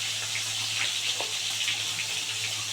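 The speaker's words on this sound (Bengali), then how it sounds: "তেল গরম হয়ে গেছে, এবারে দিয়ে দেবো চিংড়ি মাছটা" Shrimp frying in hot oil in a home kitchen, seasoned with salt and turmeric, gives a loud, steady hiss with no pauses and no talking.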